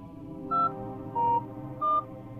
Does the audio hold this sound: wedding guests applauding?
no